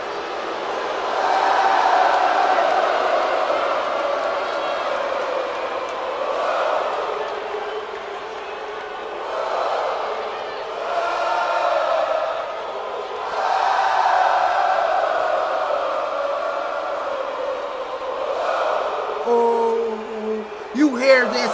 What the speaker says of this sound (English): Packed out, sold out crowd.